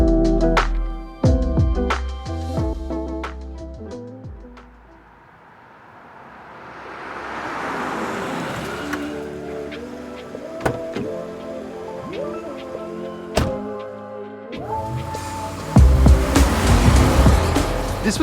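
A limousine driving, heard as an audiobook sound effect: engine revving and shifting in waves, a whooshing pass in the middle, then a renewed loud rev with rumbling low end, no talk over it.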